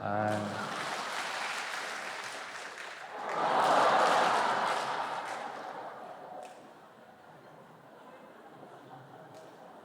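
A church congregation at a Friday prayer meeting claps their hands: a voice speaks briefly, then a broad wash of clapping swells in the middle and fades into quiet room tone.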